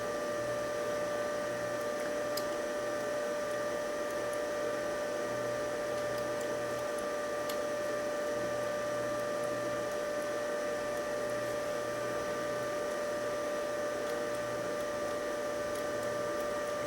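Acoustic Research ETL1 turntable motor running at 45 and then 33 speed on the bench: a faint, steady electrical hum with a low mechanical drone, quiet and continuous with no talking.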